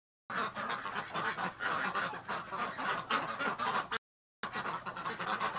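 Geese honking loudly and continuously inside a duck barn, a dense, overlapping chorus of calls from several birds close by, briefly cut off before resuming.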